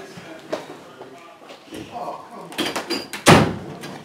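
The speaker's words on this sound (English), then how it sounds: "Let's close the door because I cannot hear nothing." A door swings and closes with a solid thump, preceded by shuffling and handling noises close by.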